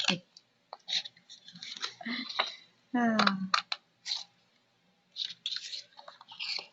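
Scissors snip through a paper window envelope in short, close, crisp clicks and crunches, separated by brief pauses, with quiet talk around them.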